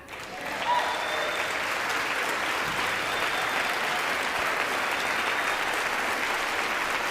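A crowd applauds during a political speech, a long, even roar of clapping that swells in within the first second and holds steady for several seconds, with no voices breaking through.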